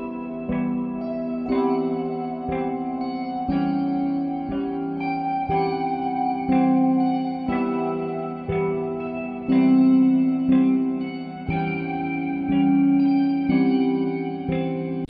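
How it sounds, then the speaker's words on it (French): High, bright guitar melody soaked in long reverb and echo, sustained notes ringing over a steady layered instrumental bed in a spy-film style arrangement, loud and continuous with no voices. "Par-dessus, on rajoute une guitare très aiguë. Encore une fois, pareil, noyée dans une reverb,"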